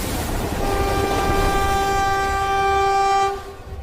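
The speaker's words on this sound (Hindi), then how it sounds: "सर, चेन्नई एक्सप्रेस ट्रेन तो रुकने का नाम ही नहीं ले रही।" A cartoon train, the Chennai Express, running on its rails: a steady loud rumble with a sustained horn tone held for about three seconds before it cuts off, no talk.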